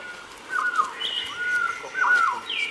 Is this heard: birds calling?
yes